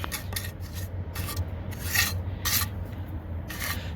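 A trowel rasps and scrapes as wet concrete is beveled at the top around a fence post, a run of repeated close, gritty strokes with no talking.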